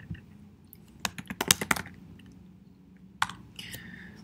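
Typing on a computer keyboard, with a quick flurry of close, soft key clicks followed by a pause and a few more scattered taps, quiet and alone.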